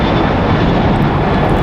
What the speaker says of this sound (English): It's a Boeing 737-900ER, 6 years old.